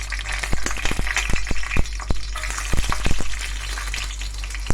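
Dried red chilies sizzle in hot oil for a murungai keerai (drumstick leaf) dish, with a steady fizzing hiss broken by frequent sharp crackles and pops.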